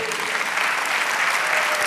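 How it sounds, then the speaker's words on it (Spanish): A church congregation applauding during a sermon, a thick, continuous burst of many people clapping, loud and sustained throughout. "Dale el aplauso al Señor"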